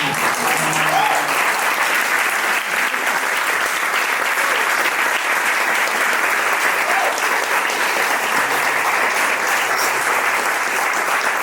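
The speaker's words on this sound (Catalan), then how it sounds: "Aixequeu-vos, us faran un aplaudiment." Audience applause at a book presentation in a bookshop, a dense, steady wash of many hands clapping that stays loud and even from start to finish without a break.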